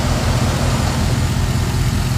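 A 2011 GMC Sierra Pro pickup with the 5.3 Vortec engine runs nearby, a steady low idling drone with broadband noise and no speech.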